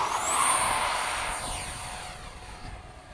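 Two 70mm electric ducted fan model jets, an FMS F/A-18 and a Hobby King Skysword, fly in formation. They make a continuous high-pitched whine and rushing roar that sweeps past at middle distance and slowly fades.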